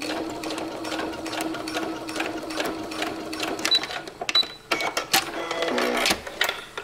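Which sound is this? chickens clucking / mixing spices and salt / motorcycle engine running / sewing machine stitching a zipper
sewing machine stitching a zipper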